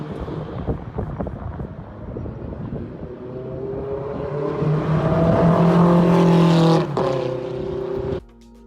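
A Ferrari F430 driven at Mondello Park circuit: the engine revs climb steadily into a loud rising howl under wind buffeting, peaks, then drops sharply as the driver lifts off.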